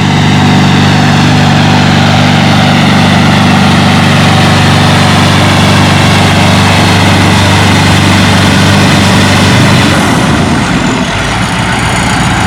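An antique tractor's engine roars under heavy load in a tractor pull, a loud steady low drone that holds for about ten seconds and then drops off near the end.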